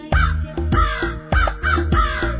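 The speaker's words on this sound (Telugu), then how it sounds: "కాకి కాకి కలువుల కాకి కాకి నాకు ఈకా ఇచ్చి" A crow caws loudly and close by, four harsh, evenly spaced calls repeating in a steady rhythm with no other sound around them.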